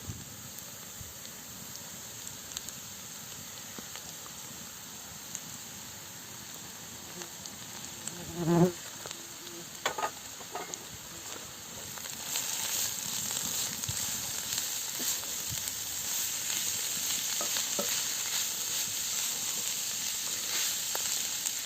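Onion and carrot fry in an Afghan kazan over an open fire, a steady broadband sizzle that grows louder and denser midway, with a few brief clatters near the start and no talking.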